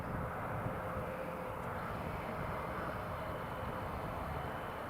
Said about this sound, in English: This is one of our based Airbus A320s of EasyJet.